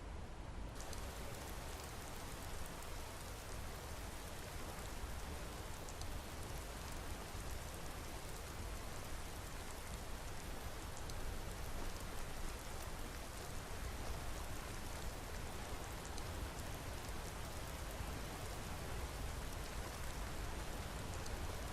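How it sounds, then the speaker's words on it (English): Steady light rain falls as ambient weather in an Elder Scrolls game world, a dense, even hiss of drops that holds unchanged from start to finish. "Maybe we should get a little fog and a little light rain"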